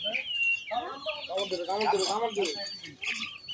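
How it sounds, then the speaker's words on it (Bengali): Chicks and hens cluck and peep close by in a village yard, short chirps and clucks running through the clip with people talking over them. "মুরগির বাচ্চা"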